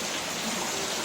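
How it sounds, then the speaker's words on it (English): Heavy, steady rain pours over a residential complex in Citayam after falling hard since early morning, with rivers nearby in flood. It is a dense, continuous hiss of downpour with no pauses. "the rain doesn't stop, and the rain is"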